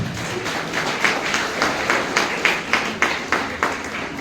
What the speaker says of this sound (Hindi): ताली बजा के प्रभु को धन्यवाद